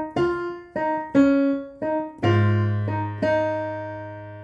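A piano plays part two of the chorus of a song in a simple arrangement, about seven clear notes and chords struck one after another, each ringing and decaying, with a deeper left-hand bass entering midway.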